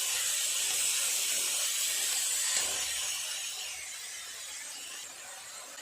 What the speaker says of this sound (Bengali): খুব ভালো করে নেড়ে চেড়ে একটুখানি কষিয়ে নেবে এইভাবে।